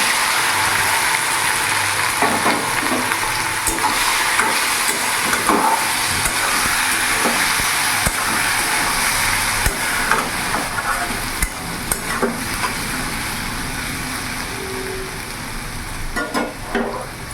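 Taro stolons stirred in a pan with shrimp and black cumin seeds, a steady close sizzle of frying with repeated scraping strokes of a spoon against the pan, with no talking.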